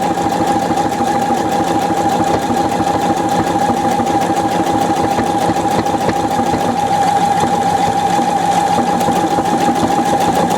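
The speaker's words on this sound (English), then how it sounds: "So now I'm sewing on the interfaced piece." A Pfaff 720 sewing machine stitches a buttonhole through interfaced fabric, giving a loud, steady, rapid mechanical whir that runs unbroken from start to finish with no talking.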